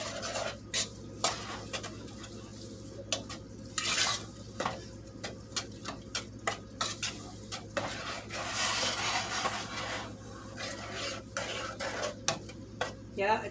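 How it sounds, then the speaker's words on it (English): A spoon stirs beef gravy in a pan over medium heat, making repeated scraping knocks against the metal over a soft, steady sizzle, close by; a voice speaks faintly in places. "Now I'm gonna cook that over medium heat. Stir occasionally for 5 minutes."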